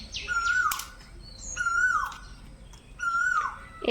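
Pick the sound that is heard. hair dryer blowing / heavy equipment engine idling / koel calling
koel calling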